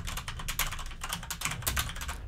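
Rapid, steady clacking of keys on a computer keyboard, close and fairly loud, with dense overlapping keystrokes and no pauses or voices.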